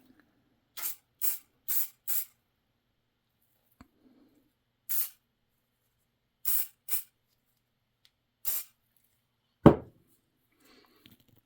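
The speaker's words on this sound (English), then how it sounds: "go ahead and we'll put some of the spray in" Short, sharp hisses of an aerosol lubricant spray on a wind-up music box, about eight quick bursts in uneven groups separated by silence, followed by a single soft thump.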